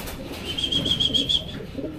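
Racing pigeons land at their home loft at the end of a derby race, with a brief burst of close wing flapping and a faint high call over soft background noise.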